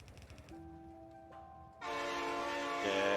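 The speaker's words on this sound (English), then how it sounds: "I thought that train was going to hit me." Train in the factory-building game Factorio, a sustained tonal horn at first, then a loud rushing pass that swells and holds to the end, with no talk over it.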